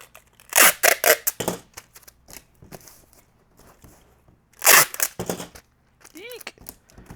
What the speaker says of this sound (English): Let's get this a little bit better taped up.